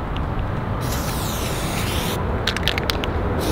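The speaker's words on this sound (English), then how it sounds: "I'm spray painting Matt's truck right now" Hissing bursts of spray paint on a truck, one long spray and several short sharp puffs, over a steady low background rumble.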